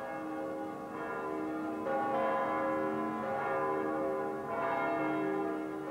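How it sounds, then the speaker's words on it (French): Church bells of Moscow's many churches peal continuously for a tsar's coronation, rich overlapping tones ringing out in swelling waves, a steady resonant clangor with no voices. "Les cloches des innombrables églises de Moscou retentissent pour fêter le nouveau tsar."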